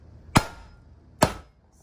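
A hammer strikes a lobster shell twice, each a sharp, close cracking thwack about a second apart, with quiet room tone between the blows.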